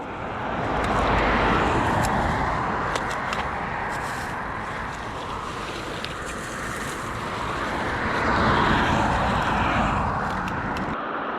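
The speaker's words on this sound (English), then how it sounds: "the cars are flying past so quickly" Steady roar of cars rushing past on a roadside lined with cones, a broad whooshing traffic noise that swells near the start and again toward the end, with wind buffeting the microphone.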